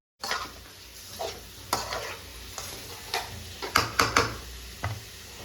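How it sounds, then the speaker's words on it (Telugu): Chicken frying with golden brown onions sizzles steadily while a spoon scrapes and knocks against the pan in a series of sharp, irregular strokes. "ఆనియన్స్ మంచిగా కాలినాక ఇందులో అయితే చికెన్ వేసుకోవాలి"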